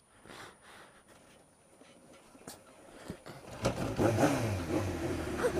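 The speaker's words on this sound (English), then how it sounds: "Was that starter motor?" A motorcycle engine, a budget Japanese classic sport bike, tries to start as the starter motor cranks. Quiet rustling comes first, then a loud rising mechanical churn in the final two seconds.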